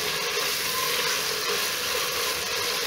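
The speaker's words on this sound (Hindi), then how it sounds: "अब मैं इसमें 2 टेबल स्पून केचप ऐड करूँगी। और इसकी करूँगी अच्छे से भुनाई।" Chicken frying in a pan after ketchup goes in, a steady broadband sizzle holding evenly throughout with no speech over it.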